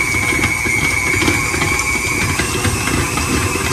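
A stand mixer with a paddle attachment runs at a higher speed through cookie dough, producing a loud, steady motor hum with a constant whine and faint rhythmic thumping, nearby and without speech.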